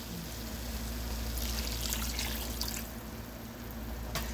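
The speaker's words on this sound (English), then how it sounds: "Add a little bit more water." Water pours into a pot of roux for a chicken, sausage and tasso sauce piquante, making a close, steady trickling stream that goes on without pause and without talk.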